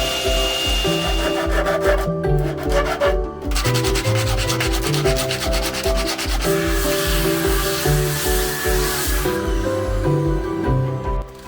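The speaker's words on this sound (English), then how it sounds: "We're now going to take it over to the scroll saw and cut these areas out here." Scroll saw cutting through wood for a handle cutout, a steady buzzing vibration with rapid reciprocating strokes running continuously and loud, close by with no talking.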